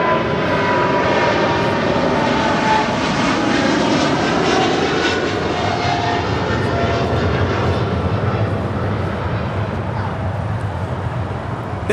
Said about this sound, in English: This is Qatar Cargo Flight 8172 departing to Liège on a 777 freighter